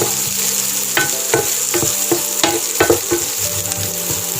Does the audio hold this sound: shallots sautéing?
yes